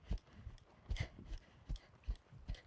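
A horse at an extended trot during a riding lesson, its hooves striking the ground in a steady, evenly spaced rhythm of soft thuds, moderately distant and fairly quiet.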